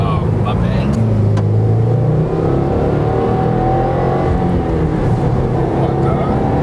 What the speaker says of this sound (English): You hear that turbo, bro.